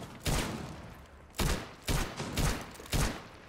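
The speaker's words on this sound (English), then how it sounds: "not sure what Deimos is shooting at" Gunfire in Rainbow Six Siege, five loud separate bursts of shots with short gaps between them, close and punchy, no talking.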